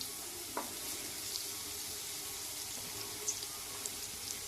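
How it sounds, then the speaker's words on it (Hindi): Onion and cabbage stir-fry in a pan, giving a faint, steady sizzle with a few soft clicks from the pan, quiet and without talk. "तो मैंने इसमें ये वेजिटेबल्स, प्याज और बंद गोभी, ये भी थोड़ी स्टफ फ्राई करेंगे।"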